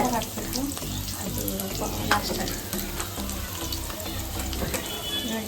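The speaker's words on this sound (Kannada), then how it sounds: "ಇವಾಗ ಅದನ್ನ ಸ್ವಲ್ಪ ಎಣ್ಣೆಲಿ ಫ್ರೈ ಮಾಡ್ಕೋಬೇಕು ಸ್ವಲ್ಪ ಚೆನ್ನಾಗಿ" Chicken sambar ingredients fry in oil in a pan, a steady close sizzle with occasional stirring scrapes and faint clinks throughout, and a little background voice now and then.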